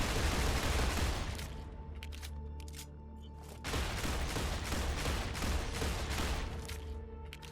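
Gunfire in the video game StarRupture: a rapid burst of loud shots opens, then sparse single cracks follow, and another dense volley erupts partway through over a low rumbling background.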